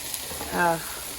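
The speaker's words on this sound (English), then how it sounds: "I think these look really pretty and festive with the mushrooms and onions sauteing together." Mushrooms and onions sauté in beef bacon grease with a short, steady sizzle and hiss, a brief hum of a voice rising over it midway.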